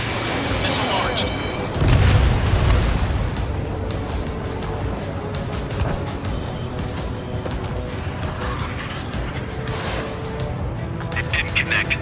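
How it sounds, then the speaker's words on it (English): Missile launch and explosions in Ace Combat 7 over a residential area: a deep booming blast early on, then a steady roar of jet engine and distant rumbles, with radio voices talking throughout. "Missile launched."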